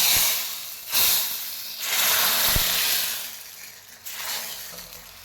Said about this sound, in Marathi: ह्याच्यावर आपण तडका आता टाकू